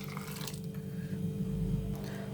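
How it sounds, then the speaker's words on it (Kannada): Cooked lentils slide into simmering bottle gourd sambar with soft, wet squelching and low bubbling, heard close and fairly quiet. "ಇವಾಗ ಬೇಯಿಸಿರೋ ಬೇಳೆ ಹಾಕ್ಬಿಡ್ತೀನಿ"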